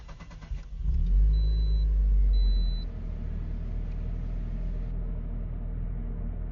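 A Crimea Roadster student-built Russian sports car engine fires up by start-stop button: a deep rumbling catch and brief rev that settles into a steady low idle, close and alone.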